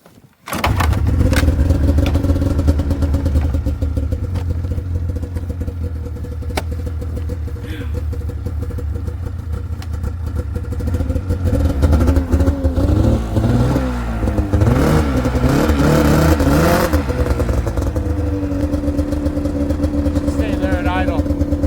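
Vehicle engine turning over and settling into a loud, steady idle in the snow, with a rising rev partway through and people talking over it.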